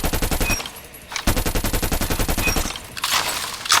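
Rapid automatic bursts from the Krig assault rifle in COD Mobile, loud and close, with two sustained volleys broken by a brief pause and a hiss-like effect at the end.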